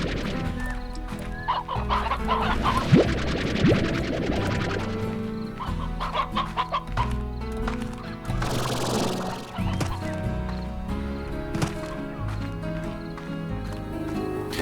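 Hens clucking in the video game Slime Rancher, repeated bright clucks and squawks in bursts over a layered game music bed, fairly close and clear with no talking.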